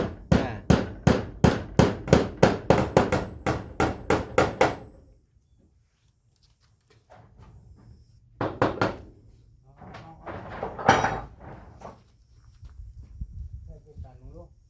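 Hammer blows drive nails into wood while a house is being built, a fast even run of about a dozen sharp, loud strikes followed by quieter scattered knocks and thuds, with someone speaking over the later part.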